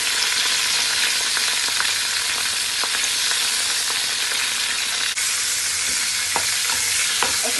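Masala curry powder fries in hot oil while being stirred, a dense, loud, continuous sizzle with scattered scraping taps of the spoon against the pot and no talking.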